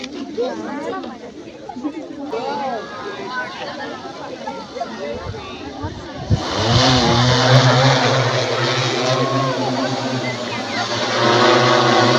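People talk at first; then an agricultural spraying drone for spraying paddy fields starts up and holds a loud, steady buzzing drone that continues to the end.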